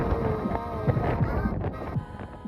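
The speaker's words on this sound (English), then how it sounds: "but look how windy it is." Strong wind buffets the microphone on a mountain observation terrace, a rough, continuous low roar with gusty thumps and rustling, close and loud.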